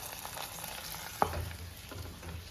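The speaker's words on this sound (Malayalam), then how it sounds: "നമ്മുടെ താളിപ്പ് ഈ കറിയിലേക്ക് ഒഴിച്ചു കൊടുക്കണം" Hot tempering is poured into a Kerala-style tomato curd curry, giving a soft crackling sizzle, with one sharp splutter or clink partway through and quieter bubbling after it.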